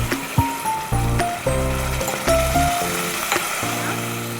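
Hot cooking for menti pappu crackles and sizzles steadily with a few clinks and utensil taps, a bright hiss continuing throughout.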